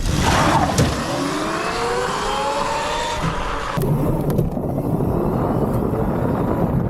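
A 50HP three-wheeled golf cart accelerates hard on snowy asphalt, its motor whining up in rising sweeps under loud wind rush, then dropping to a rougher, steady roar as the pull eases.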